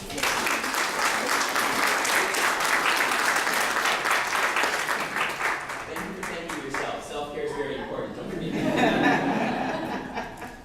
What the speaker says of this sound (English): I think that we deserve to give ourselves a round of applause.